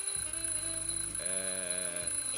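In the adventure game The Journey Down, a smoke detector sounds a steady electronic alarm tone that shifts pitch partway through. It is moderately loud and close, with no voices.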